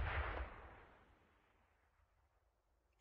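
Grenade blast in a competitive multiplayer shooter match: a single loud, close explosion at the start that decays into a long fading rumble, with no talk over it.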